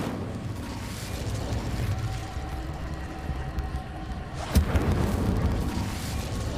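A fire spell cast in Hogwarts Legacy gives a continuous roaring, crackling rush with a sharp burst about two-thirds through, then carries on slightly louder.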